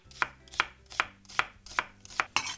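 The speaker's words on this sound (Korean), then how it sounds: "양파, 양파는 얇게 써세요." Seven crisp knife cuts through an onion onto a board, evenly spaced about half a second apart, close and clear with no talking.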